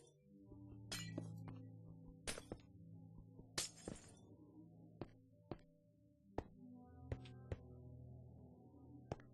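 Glass blocks breaking in Minecraft, a string of bright shattering crunches followed by sharper, thinner clinks spaced a second or so apart, close and clear with no talking.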